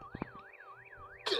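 Car alarm in the Last Day On Earth survival game wails in a rising-and-falling siren sweep, loud and alone, with a few sharp thuds at the start and a burst of noise at the end.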